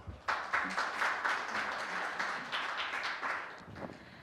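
Audience applause after a presentation at a carbon-neutrality forum on resource recycling in Gwangju, a steady crowd clapping that starts abruptly and continues evenly for several seconds with no speech over it.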